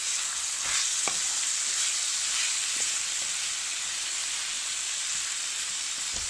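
Broccoli and tomato curry sizzles in a pan while it is mixed. A steady, bright frying hiss runs throughout, with a few soft scrapes and clinks of the spoon. No voices are heard.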